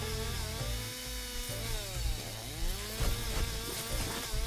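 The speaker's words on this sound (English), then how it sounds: "the chainsaw's on kind of a countdown, if you will, almost as if it was ammo" Steady buzzing chainsaw weapon in the zombie video game Zombieville USA 3D, a loud continuous motor drone with wavering pitch sweeps and sporadic impact bursts from game action, no talk.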